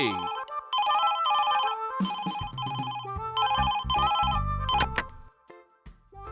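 A cartoon telephone rings loud and close in a series of repeated electronic trills, with other cartoon sound effects clattering in toward the end.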